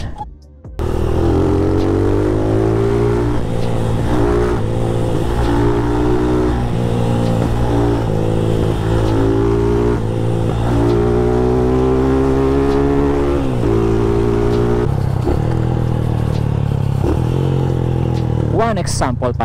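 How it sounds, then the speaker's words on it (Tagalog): Carbureted motorcycle engine held at steady elevated revs in traffic to keep it from stalling, loud and close with a continuous droning hum and several rises and dips in pitch, and someone talking over it. "bomba ka ng kaunti, binubuhay mo ang iyong makina"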